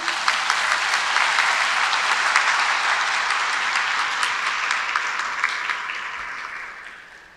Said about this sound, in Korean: 총장님을 박수로 모시겠습니다.